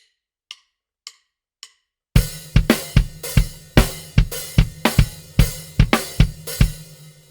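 Three faint clicks count in, then a loud close drum kit pattern with kick drum in sixteenths, one bar of 4/4 followed by a bar of 5/4, sharp repeated hits with no talk.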